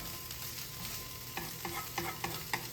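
Fire-roasted corn is stirred into a frying pan of sautéed Brussels sprouts. It sizzles faintly and steadily under a series of soft scraping stirs near the end. No one speaks.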